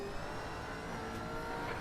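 A Gen 3 V8 Supercar engine drones steadily in the iRacing sim at Brands Hatch, a dense, continuous high-revving roar with a whine on top, at constant volume throughout this brief moment with no talk.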